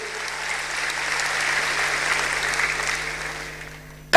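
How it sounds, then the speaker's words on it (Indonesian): A church congregation breaks into steady applause during a sermon, even clapping that swells and then fades before a sharp sound cuts in at the very end. "Yang setuju berikan tepuk tangan yang meriah buat Tuhan."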